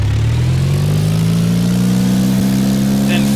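In a flight simulator game, a light aircraft engine runs at full power for takeoff, a loud steady drone that rises slowly in pitch as it builds up.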